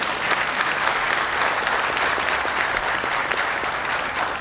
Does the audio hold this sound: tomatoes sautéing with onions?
no